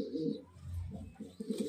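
Giribaz pigeons cooing close by, low soft throaty coos in a couple of short phrases, fairly faint with some background noise between calls.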